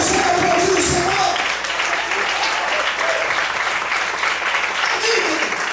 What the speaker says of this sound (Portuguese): Você vai aplaudir o Senhor?